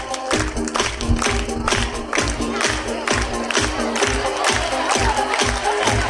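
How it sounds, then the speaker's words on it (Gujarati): A school audience claps rhythmically to welcome teachers coming forward at a retirement ceremony at Vimal Mariyam High School in Gamdi, a continuous close burst of hand claps with faint crowd noise mixed in. "આપણી પરંપરા છે, તાળીઓથી વધાવી લઈશું."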